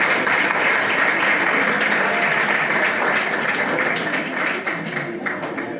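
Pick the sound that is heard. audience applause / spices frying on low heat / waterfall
audience applause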